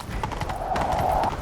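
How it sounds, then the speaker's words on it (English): Horse hooves clip-clop at a gallop during a chase in The Witcher 3, quick rhythmic thuds running steadily under a sustained tonal background for the whole stretch. "Grab a horse, we'll chase him down."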